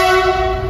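A train engine sounds its horn near a railway crossing in Arya Nagar by the Sarbhati flyover, a loud sustained steady horn tone held throughout with no voices.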